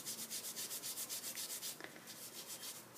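Steel wool scrubs back and forth over rusty metal in quick, even strokes, close and fairly quiet, with no speech.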